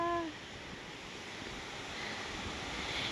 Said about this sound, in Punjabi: ਨਹਿਰ ਦੇਖੋ ਜੀ ਨਹਿਰ ਚੱਲੀ ਜਾਂਦੀ ਹੈ